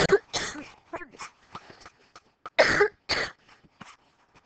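Several dry coughs and throat-clearing bursts come close to the mic, separated by short pauses, with quiet breaths between them.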